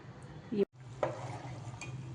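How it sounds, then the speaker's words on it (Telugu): Butter melts in a pan on the stove while being made into ghee, with a low continuous bubbling sizzle and a brief light clink of a utensil partway through. "ఇంకా వెన్నపూసనైతే కరిగించుకుంటున్నాము. పొంగు వస్తుంది, దగ్గరుండి చూసుకోవాలి."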